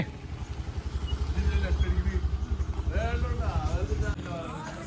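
A departing passenger boat at Thuruvanam island, Maranchery, drones steadily in a low engine hum beneath loud nearby talking, then the engine noise drops away abruptly near the end.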